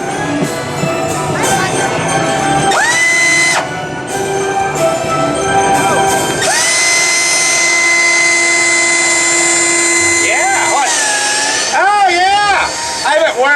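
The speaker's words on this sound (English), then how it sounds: "It's a power tool." A power tool whines and revs in a sideshow human blockhead stunt at a Halloween fright fest, its loud motor pitch rising and falling in bursts and sustained runs while people talk and react.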